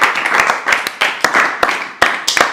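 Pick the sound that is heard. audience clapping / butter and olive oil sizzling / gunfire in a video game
audience clapping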